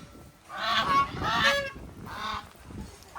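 Geese honk loudly and close by near a temple at Somnath, a noisy overlapping flock calling in repeated harsh bursts across the whole moment.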